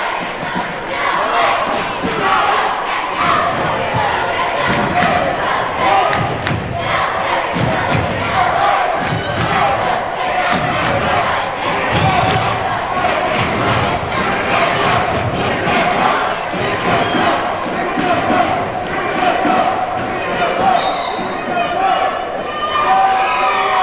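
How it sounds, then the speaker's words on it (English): The Northeastern Clinton Cougars cheering squad chants at a boys' high school basketball game, loud rhythmic crowd yells and cheers filling a gym, with scattered thumps and voices mixed in throughout. "the Northeastern Clinton Cougars cheering squad trying to get a rise out of the fans over here on Northeastern side"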